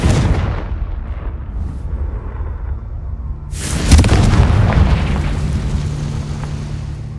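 A Confringo fire spell blasts in Hogwarts Legacy, a deep booming explosion with a sharp burst midway that rumbles and fades, over a low ambient game backdrop, no talking.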